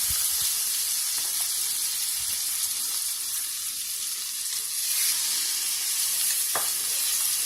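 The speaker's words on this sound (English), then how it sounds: "So I'm going to add in my salmon." Salmon frying skin-side down in a pot, giving a continuous loud sizzling hiss with steady crackle and spatter, no talking.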